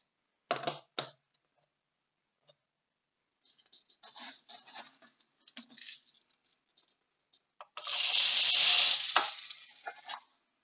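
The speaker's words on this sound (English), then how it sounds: "Let's get some more rice in. It's filling up." Dry rice is poured into a bottle in short bursts of grainy pattering, a quick rattle, scattered trickles, then a louder sustained rushing pour near the end, close and otherwise quiet.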